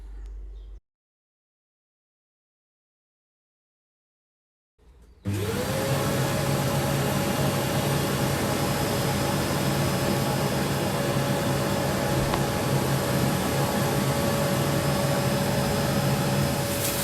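A homemade garage workshop cyclone dust extractor powered by a vacuum, starting with a short burst, a pause of silence, then switching on into a loud, steady whining roar that holds unchanged for over ten seconds.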